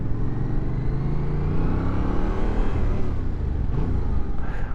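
A 2020 Yamaha Tracer 700 motorcycle with its stock exhaust under way, a steady low engine rumble with a mild rising pitch and wind noise, fairly quiet for a bike and continuous throughout.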